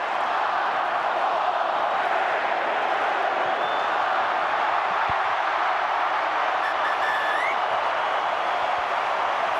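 A stadium crowd at a 2011 State of Origin rugby league game, Game 3, roars in a steady, dense wash of cheering and applause that holds at full level throughout, with no single voice standing out.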